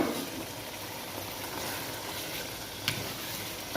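Chicken pieces fry in masala in a pan, giving a steady, soft sizzle with a faint bubbling crackle, continuous and fairly quiet with no voices.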